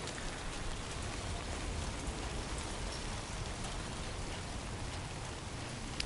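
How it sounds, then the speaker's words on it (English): Steady rain pours down in the video game Death Stranding 2, a dense, even hiss of falling drops that stays loud and unbroken throughout, with no voices. "Of course it's raining."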